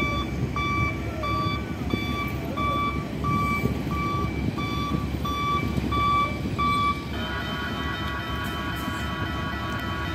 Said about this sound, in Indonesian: karena manuver-manuver truk ini soalnya jalannya mundur